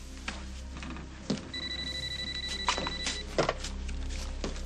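A telephone bell rings in a sustained tone for about two seconds, with scattered knocks and handling noises around it in an indoor scene and no talking.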